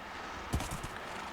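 Horse hooves from a survival video game thud a few times in quick succession, one heavier step followed by lighter clops, over a steady background hiss.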